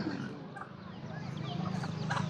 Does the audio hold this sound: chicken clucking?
yes